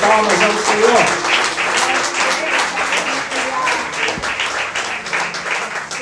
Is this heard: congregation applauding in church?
yes